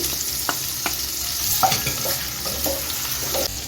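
Chopped garlic, ginger and green chili sizzle and fry in a pan over high gas heat, with steady crackling and repeated scraping stirs close by.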